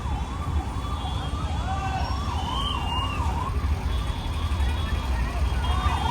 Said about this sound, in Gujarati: માનમાં એમ્બ્યુલન્સ નીકળી અહીંથી છોકરાઓ.